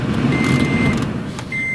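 A steady electronic warning beep from a 2014 Toyota Prius V sounds twice, a long tone then a second starting near the end, over a constant low vehicle hum.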